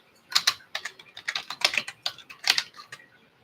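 Fingers type on a computer keyboard close by, a quick irregular run of crisp clicking keystrokes with brief pauses and no voices.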